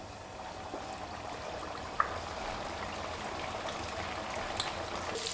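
Youtiao dough strips slipped into hot oil in a home kitchen, a soft, steady bubbling sizzle with a few faint pops and clicks, fairly quiet and continuous.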